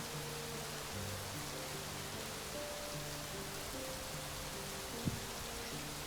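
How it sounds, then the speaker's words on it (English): Steady hiss of rain in the video game Rising World falls continuously, with faint low tones underneath and a single soft knock near the end. "it's still raining"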